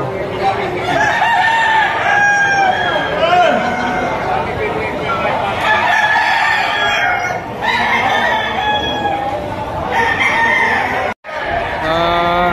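Roosters crow loudly and repeatedly while hens cluck close by at a market where roosters are being sold, over a steady murmur of crowd chatter.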